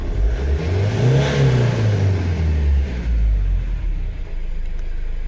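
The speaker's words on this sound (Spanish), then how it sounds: "Hay que ver el comportamiento cuando acelero" Foton Combi 2020 with a Cummins 2.8 engine revs up smoothly on acceleration, pitch climbing then falling back, loud and close, with a low rumble lingering afterward.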